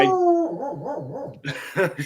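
A dog barks and howls in repeated wavering yips from an indoor spot at moderate distance, followed by a couple of sharper barks near the end.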